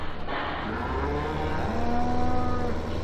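Cows in Farming Simulator 2015 let out a drawn-out moo over a steady low engine drone, with a second long, tonal lowing call following, both fairly close and clear.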